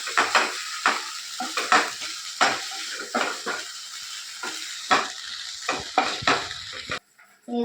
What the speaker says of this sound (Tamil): இப்போ நம்ம இதை நல்லா ஃப்ரை பண்ணலாம்.